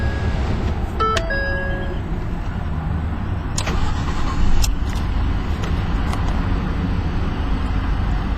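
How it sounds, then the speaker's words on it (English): A 2011 Ford F-150 XLT with the EcoBoost engine starts up and settles into a quiet, steady idle, accompanied by short electronic chimes and a few clicks, with no talking. "Right off the bat, you notice it is an extremely quiet engine."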